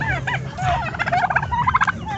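Several turkeys gobble in quick, warbling bursts, close and fairly loud, their calls overlapping.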